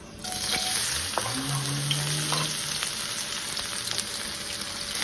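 Aromatics sizzle loudly and continuously in a hot pan for mushroom fried rice with winter vegetables, with occasional light clicks of stirring over the steady crackle.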